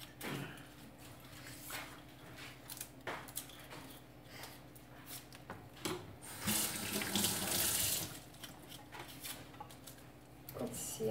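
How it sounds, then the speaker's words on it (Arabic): A kitchen tap runs steadily while an onion is washed under it, the water hissing and splashing close by, swelling louder for a moment when the stream hits the onion or sink more directly. "البصله ديالي راني غسلتها"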